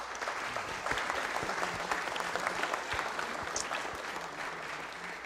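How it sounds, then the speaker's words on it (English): A city council meeting audience gives a sustained round of applause, dense, steady clapping from a crowd filling the room, fairly distant and even in level throughout. "So we can go ahead and give them a round of applause again."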